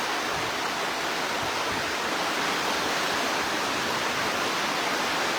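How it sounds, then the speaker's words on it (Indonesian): Strong wind during heavy rain, a dense, continuous roar of broadband rushing noise that stays loud and unbroken throughout, with no voices. "Ini anginnya semakin kencang"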